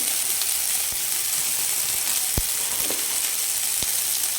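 Ripe tomato and turmeric powder frying in a pan for a spiced fish curry, giving a loud, steady close sizzle with a few light knocks of a stirring utensil.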